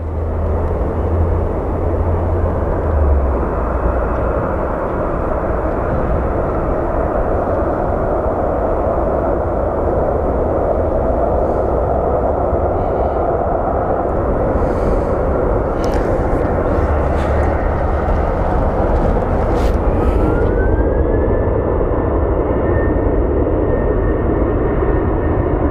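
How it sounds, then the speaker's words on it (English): Planes approach to land at Phoenix Sky Harbor International Airport, a loud, sustained engine roar that stays broad and steady for the whole stretch, with a rising whine near the end as one passes close. "I see two planes coming in."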